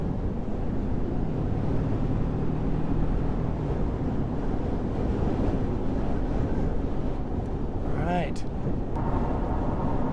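Strong 60 mph wind gusts buffet a 2024 Toyota Tacoma TRD Sport in Wyoming, a loud constant roaring rumble throughout with a brief whistling sweep near the end.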